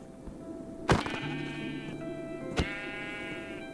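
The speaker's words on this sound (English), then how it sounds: "we're gonna punch some sheep" Sheep bleating inside a modded video game, two sharp hit thuds each followed by a sustained harmonic bleat, close and clear over a steady background hum with no talking.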